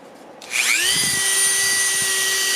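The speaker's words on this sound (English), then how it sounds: "go over to the Dremel tool. We're going to be carving right here where the little flats are" A Dremel rotary tool spins up and carves the flats of a hand-forged copper Go Mai knife, giving a steady high-pitched whine that rises quickly to speed and holds, close and alone.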